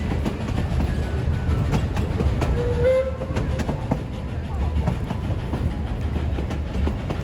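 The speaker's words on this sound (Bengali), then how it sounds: "মেঘের মতো ধোঁয়া ছড়িয়ে ট্রেনটি যেতে থাকে" Puffing Billy, a heritage steam train in Australia, departs the station with a steady rumble and rolling noise under faint background voices, and a short whistle-like tone sounds midway.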